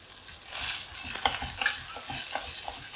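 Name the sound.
ginger and green chillies being sautéed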